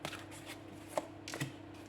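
Tarot cards being laid down on a table to cover another card during a reading, a few soft close slaps and shuffling rustles, one sharper card placement in the middle.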